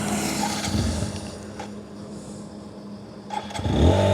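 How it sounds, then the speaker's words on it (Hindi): A TVS Apache RTR 160 4V motorcycle engine cranks and fires up, with a brief starter burst, a quieter idle stretch, then a louder catch and rising engine note near the end, heard up close. "चलिए बाइक को ऑन करते हैं"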